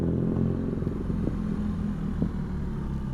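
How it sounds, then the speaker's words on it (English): A motorbike passes a car with a steady loud low rumble and engine drone, brief clattering ticks riding over the continuous roar. "Oh, motorbike friend, sorry I couldn't ride with you."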